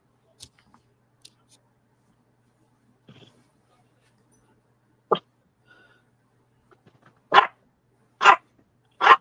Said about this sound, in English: Now stop your barking.